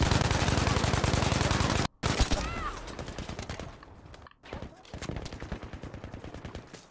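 Gunfire in the video game Battlefield V, sustained automatic fire with dense rapid shots, then scattered bursts after a brief pause, loud and near, with voices talking underneath.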